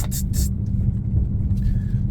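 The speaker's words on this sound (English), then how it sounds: "Sounds like wheel bearings." A 2005-2010 Dodge Magnum driving with a worn wheel bearing, producing a continuous low rumbling drone from inside the car, loud and steady, with a few brief hissy bursts at the start.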